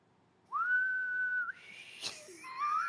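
A single person whistles a long, steady sustained note, then a brief breathy burst, followed by a short wavering whistle near the end.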